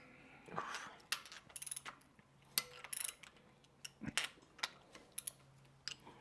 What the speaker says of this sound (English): And we will torque these to 35 foot-pounds.